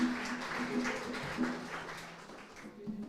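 An audience at an African American Environmental Pioneer Awards ceremony claps in a steady, moderately loud wash of many hands, with a faint steady hum beneath it that tapers near the end.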